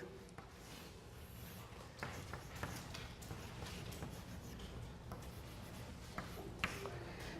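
Chalk or marker writing on a classroom board during a chemistry lesson, faint scratchy strokes and taps coming in irregular bursts against a quiet room.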